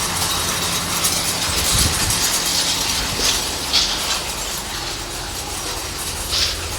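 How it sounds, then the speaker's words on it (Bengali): A puffed rice roasting machine runs steadily, a loud continuous mechanical rattle and grinding drone with faint higher hisses rising over it, close and unbroken throughout. "মুড়ি ভাজা হচ্ছে"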